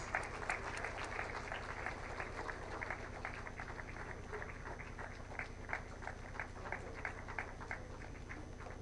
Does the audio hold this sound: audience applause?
yes